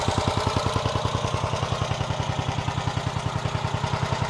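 A Wolfe Ridge 35C compact commercial log splitter's engine idles close by, a steady, even chugging pulse that never changes pace and runs alone with no voices over it.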